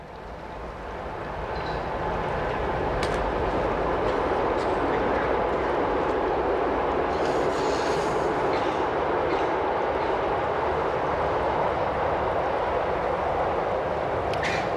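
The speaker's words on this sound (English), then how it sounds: "of that noise, of the train" A train passes in an outdoor mountain setting near Saanen, building up over the first couple of seconds into a sustained, loud rolling rumble with faint clatter that holds steady to the end.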